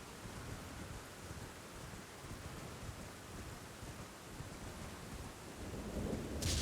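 A storm in Elden Ring, with steady rain and rolling thunder rumbling throughout, swelling louder toward the end.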